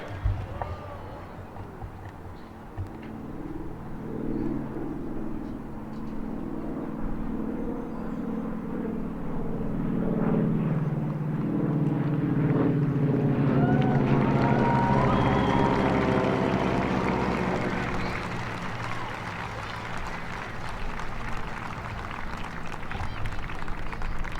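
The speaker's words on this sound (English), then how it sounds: "Flyover today provided by Phillips 66 Veterans Network, members of the commemorative Air Force Houston Wing" Vintage warbirds of the Commemorative Air Force Houston Wing pass overhead during a Wreaths Across America ceremony at Houston National Cemetery, a broad engine roar swelling and fading in the distance above an outdoor crowd.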